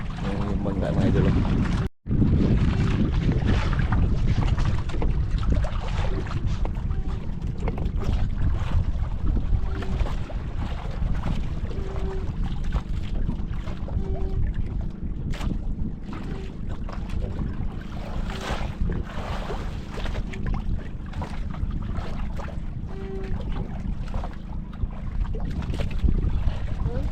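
A boat on open water gives a continuous engine drone under wind and splashing waves, loud and close for the whole stretch, with a brief dropout near the start and voices talking faintly now and then.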